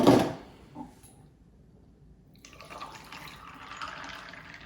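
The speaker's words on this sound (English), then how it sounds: "I'm gonna get some ice and we're gonna pour it over the ice." Blended fall coffee is poured over ice: a brief clatter and splash at the start, a short pause, then a soft, steady trickle of liquid filling the glass, with no voices.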